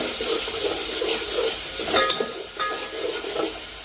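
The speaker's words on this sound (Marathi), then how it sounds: "वाटण व्यवस्थित तेलात परतून घ्यायचं." Ground spice paste sautéing in oil in a pan, a steady close sizzle with occasional scraping and stirring clicks of a utensil against the pan.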